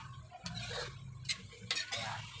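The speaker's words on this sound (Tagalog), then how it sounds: "So haluin muna natin yung mga idol para unti-unti mawala yung sabaw." Pancit noodles stirred in a pan of broth, soft scraping and a few light metallic clicks of a utensil against the pan, faint and close.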